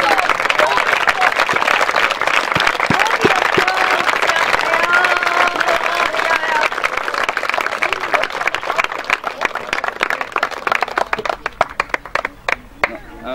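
An audience at a football training camp's closing ceremony claps loudly and steadily for the camp's best kid, dense applause that thins into scattered individual claps near the end.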